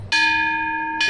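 A small bell in the Japanese Alps of Nagano is struck once, ringing close and bright with a sustained clear tone, then struck again just as the first ring is still sounding.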